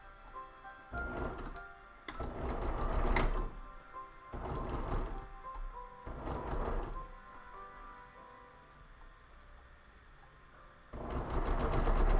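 Home sewing machine stitching a TARDIS-themed bow tie, running in several close whirring bursts separated by short pauses, with a longer louder run starting near the end.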